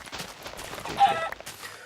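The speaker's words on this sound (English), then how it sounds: "Come here, chicken." A chicken in the Minecraft video game, alpha version, gives a brief, faint cluck over a soft background.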